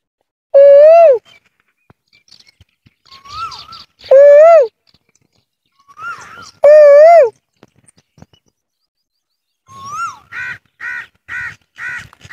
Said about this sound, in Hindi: कितनी प्यारी अमेजिंग आवाज़ है कोयल की।